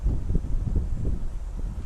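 Steady low rumbling wind buffeting a microphone outdoors in a backyard garden, continuous and fairly loud throughout with no other clear sounds.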